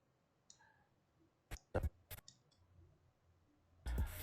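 A mouse clicks while video is edited in Premiere Pro, giving a few sharp, close clicks in quick succession in a quiet room, followed by a brief burst of louder noise at the end.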